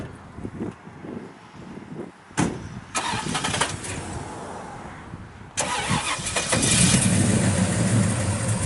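A 1967 Chevrolet Chevelle SS 396 with an aftermarket cam cranks over and fires, then settles into a loud, rumbling idle through the exhaust, heard close.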